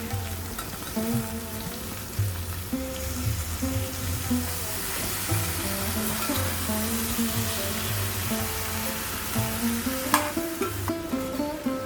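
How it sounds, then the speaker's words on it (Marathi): Mixed vegetables for Bhogi sabji, including beans, sugarcane, brinjal and potatoes in a spice coating, sizzle steadily in a pan while being stirred, with occasional scrapes and clinks over a continuous close frying hiss. "आता मी चांगली परतून घेतलेली आहे भाजी"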